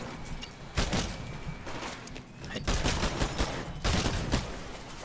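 Gunfire in the shooter game Titanfall comes in several sharp bursts spread across the stretch, with rattling shots standing out from the busy game background at moderate loudness.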